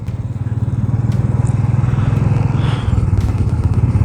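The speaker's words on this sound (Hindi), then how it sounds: "ओह देखा, this is called engine braking." A motorcycle engine-brakes in low gear down a steep, sinking mountain road on the Namik La pass in Ladakh, a loud close steady low throb with rhythmic pulsing and some clatter, with no talking.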